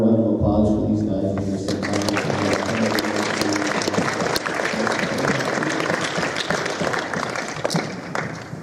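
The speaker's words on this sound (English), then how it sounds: "One more round of applause for these guys." A school academic honors and awards ceremony audience breaks into steady, dense applause that runs loud and continuous throughout, following a brief spoken line at the start.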